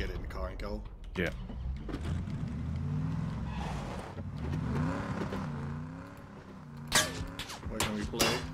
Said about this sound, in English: let's just get in the car and go